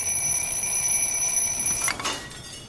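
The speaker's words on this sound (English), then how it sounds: "So this one will ring since it's an alarm." An alarm clock in the video game Little Inferno rings with a steady, shrill electronic tone for about two seconds, then breaks off into a brief crackle and fades.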